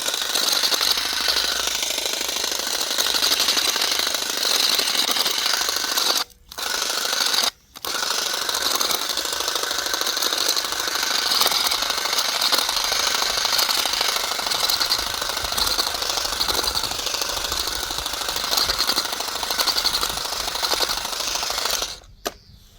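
A cordless hedge trimmer trims lavender, buzzing steadily at close range, its rapid clattering blades cutting out briefly twice and again at the very end.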